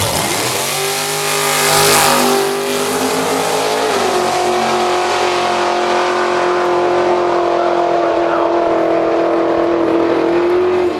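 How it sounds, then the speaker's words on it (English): A Corvette drag racing car makes a licensing run at a drag strip, a loud, close, roaring launch with rising harmonics that shifts once and holds a strong, sustained engine howl to the end. "Licensing run for the Corvette."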